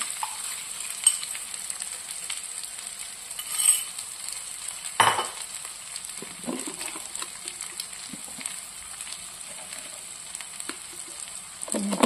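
Egg frying in a pan in a home kitchen, a steady close sizzle throughout with an occasional utensil tap.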